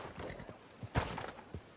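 Horse hooves clip-clop softly on a town street in the Red Dead Redemption 2 video game, a few scattered irregular steps under faint ambient noise.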